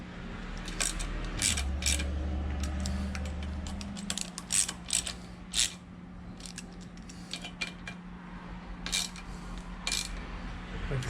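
A socket wrench ratchets in short clicking bursts while bolts on the lower unit of a 1992 Johnson 25 hp outboard are torqued down, with a low steady hum underneath and brief metallic taps.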